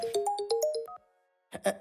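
A melodic phone ringtone plays a quick run of bright tones, stops abruptly, then someone briefly speaks after a short pause.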